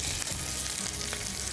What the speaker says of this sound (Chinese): 我哋可以起鍋煎咯